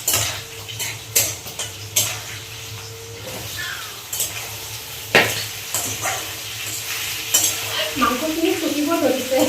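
Pork pieces frying in a pan for a dry fry hiss with a steady moderate sizzle, punctuated by sharp clinks and scrapes of a spoon against the metal pan.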